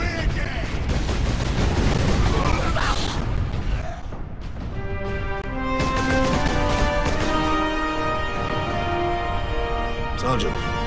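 Gunfire from Warhammer 40,000: Space Marine, dense overlapping shots and mechanical clatter with layered game sounds and music throughout, steady and loud.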